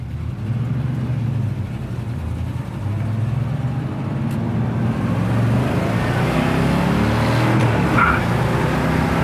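A 1976 Corvette Stingray accelerates hard through its gears, a loud steady engine roar close by with a brief tire chirp on the shift into third.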